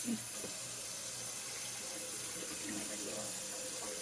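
Potatoes being washed under running water from a kitchen tap, a soft, steady stream splashing into a sink, faint and continuous with a few light knocks.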